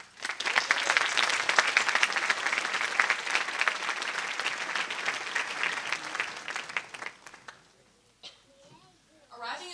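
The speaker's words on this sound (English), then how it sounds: "this does deserve a quick round of applause for everybody" A large crowd claps at the SHAPE American High School graduation ceremony in 2025, a loud, dense round of applause lasting several seconds before thinning out, with scattered voices and quieter sounds near the end.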